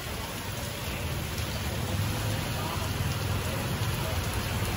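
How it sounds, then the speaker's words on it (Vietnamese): Heavy rain pouring down outside a house, a dense steady hiss of drops on surfaces, loud and unbroken from start to finish. "một cơn mưa rất là to nha"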